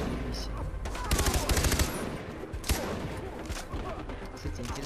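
Rapid bursts of Far Cry 3 video game gunfire crackle through a dense, noisy mix, with a fast automatic volley in the middle and scattered shots around it.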